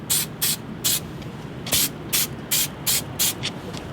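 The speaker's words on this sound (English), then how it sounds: "you can just keep spraying the other side so it also gets tacky" Nine short bursts of spray adhesive hissing from a can onto a Toyota Land Cruiser 80 Series door panel, evenly spaced in a quick rhythmic series, close and clear with no talking.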